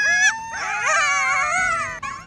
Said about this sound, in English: the coyotes, or as they're scientifically known, Canis latrans, which basically means barking dog